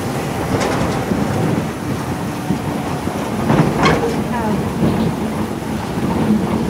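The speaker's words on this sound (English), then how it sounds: "we are now passing through the monorail siding." A monorail train rolls through a siding at the Beaulieu exhibition. The rumble is steady and close, with occasional clacks and squeals, and a voice is heard over it.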